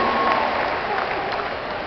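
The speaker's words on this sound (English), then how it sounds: "Give them a round of applause, ladies and gentlemen." Steady applause from a crowd at a live talk at the Battlecry 2010 event fills the space, dense continuous clapping at an even level throughout.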